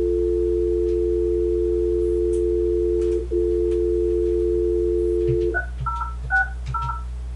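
A Polycom VVX 400 business desk phone gives a steady dial tone, then a short run of DTMF keypad beeps as a number is dialed, loud and close, with no voices.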